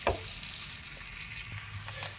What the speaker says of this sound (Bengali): আমার পেঁয়াজটা কিন্তু অলরেডি ভাজা হয়ে গেছে